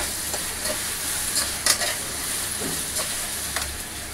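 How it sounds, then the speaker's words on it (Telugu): Ginger garlic paste sizzles and fries in a pan, a soft steady crackle with a few brief stirring scrapes and no talk. "ఇప్పుడైతే అల్లం వెల్లుల్లి పేస్ట్ వేసుకుంటున్నానండి కొద్దిగా. అల్లం వెల్లుల్లి పేస్ట్ కూడా బాగా మగ్గనివ్వాలి."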